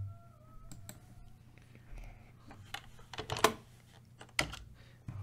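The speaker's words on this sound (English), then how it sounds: "Try to smack the keys a little bit less because you're going to make our people deaf." Computer keyboard keys smacked hard while typing, scattered sharp clicks and a few loud clacks in irregular bursts against a faint low hum, with soft voices in the background.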